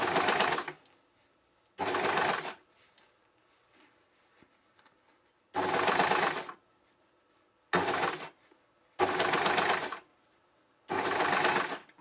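An overlocker stitches a sleeve head onto a shoulder seam in six short, loud motor bursts of whirring stitching, separated by quiet pauses, with no talking.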